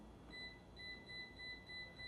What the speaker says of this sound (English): that side is the hot because it's beeping faster